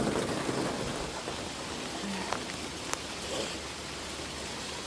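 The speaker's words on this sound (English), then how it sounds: "It definitely sounds a lot more severe when you're in the greenhouse." Heavy rain drums steadily on the roof of a garden greenhouse, heard from inside as a dense, loud hiss with occasional sharper drop impacts.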